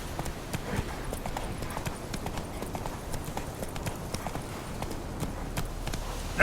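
Roach the horse galloping in The Witcher 3, a fast, even run of hoofbeats pounding close and steady throughout.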